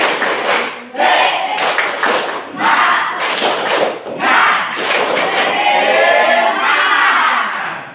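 A classroom of children performs a rhythmic spirit clap, with group bursts of clapping and chanting voices repeating in a regular pattern, loud and close.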